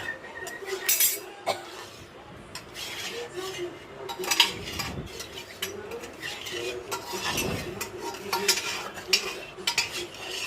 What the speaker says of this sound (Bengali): এবার ভালো করে নাড়াচাড়া করে নিচ্ছি